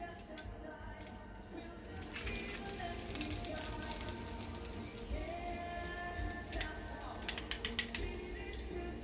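Garlic sizzles in a hot pan for a seafood alfredo fettuccine, a steady close crackle and hiss joined toward the end by sharp clicks from a utensil on the pan.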